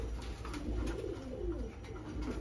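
Giribaz pigeons coo in low, rolling murmurs close by, a continuous soft burbling with a steady background hum.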